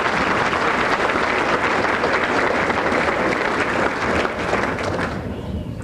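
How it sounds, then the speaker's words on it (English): A crowd of students and families applauds steadily at an academic awards banquet, a full, even wash of clapping for several seconds that tapers slightly at the end. "I think you all deserve a round of applause."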